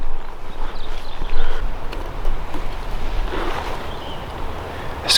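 Gusty wind buffeting an outdoor microphone while turkey hunting on public land in Indiana, a rumbling, uneven roar that swells and eases, with no talk.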